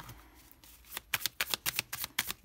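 Oracle guidance cards being shuffled by hand: a run of about ten quick, crisp riffling bursts in a steady rhythm, close and clear, after a brief quiet start.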